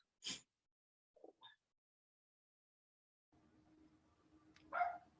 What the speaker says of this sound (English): Sorry if you heard my dog barking